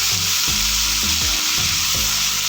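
Fenugreek leaves (methi) sauté in a hot pan with a steady, loud sizzle, while a spoon scrapes the pan in regular strokes about every half second.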